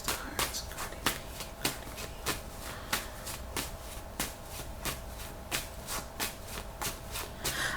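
Reading cards being shuffled, a steady run of crisp riffling snaps repeating at an even pace, close up and without any voice.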